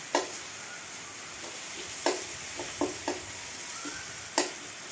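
Black cumin and bay leaves sizzle in hot oil with a steady crackling hiss, punctuated by several sharp pops and stirring clicks close by, with no talking.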